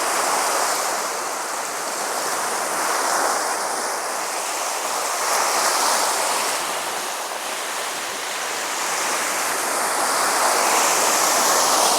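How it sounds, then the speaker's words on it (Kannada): Sea waves break continuously on Maravanthe beach along the Arabian Sea, a steady roaring surf that swells and eases in slow surges over a constant wash of water, with no voices. "ಅಲೆಗಳು ಹೇಗೆ ಬರ್ತಾ ಇದ್ದಾವೆ ಅಂತೇಳಿ."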